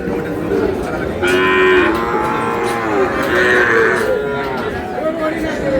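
A young Sahiwal bull moos loudly and repeatedly at a busy cattle market in Dinajpur, with long drawn-out lows over a steady murmur of crowd chatter and nearby voices.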